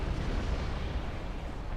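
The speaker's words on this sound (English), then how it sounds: "Oh my god, another really good bombing run." Dense, continuous rumble of explosions from a bombing run in a strategy game's 2v2 match, a low booming wash with no clear gaps for the whole stretch.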